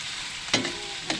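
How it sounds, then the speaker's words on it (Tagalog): Ingredients sautéed in a pan with meat, upo and greens, giving a steady close sizzle broken by two short scraping stirs of a utensil; no voices. "Magigisa pa lang tayo ng kuhan."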